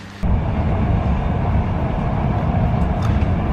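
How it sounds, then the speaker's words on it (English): Inside a moving train, a steady loud low rumble and rolling drone begins abruptly and continues evenly throughout, with no talking. "We're on the train."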